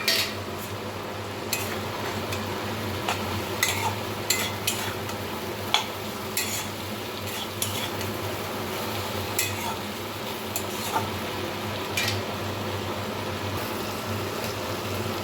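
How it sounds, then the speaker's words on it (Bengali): Mixed vegetables for a Bengali chorchori, including drumsticks, are stir-fried in a pan with a steady sizzle. A spatula scrapes and clinks against the pan at irregular intervals, close and moderately loud. "সবগুলো খুব ভালোভাবে মিশিয়ে ভেজে নেব"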